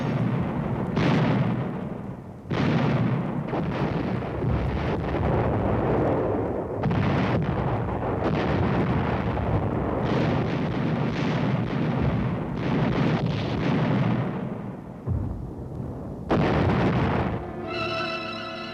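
Communist artillery shells the offshore islands of Quemoy and Matsu in a loud, sustained barrage of booming blasts and rumbling bursts that follow one another every second or two.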